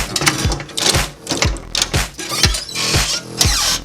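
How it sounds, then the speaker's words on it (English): A coin change machine at a laundromat runs with rapid rhythmic clunks and rattling whirs, a steady mechanical pulse about twice a second, loud and close with no talk over it. "I hate this change machine."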